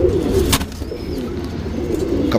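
Patta pigeons, a champion line, cooing low and close with soft repeated throaty calls, along with a brief rustle and a faint chirp in the background.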